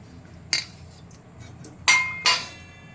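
Vermicelli tipped into a pot while making semiya payesh: three sharp clinks and clatters of metal, one early and two close together near the end, over a quiet background with no speech.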